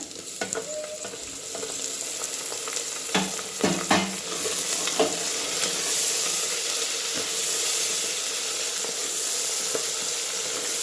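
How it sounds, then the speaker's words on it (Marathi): Chopped tomatoes frying and being stirred into masala rice in a pan: a steady close sizzle and hiss, with a few sharp spoon scrapes and clatters near the middle, and no talking. "आता टाकूया बघा टोमॅटो कापून घेतलेला"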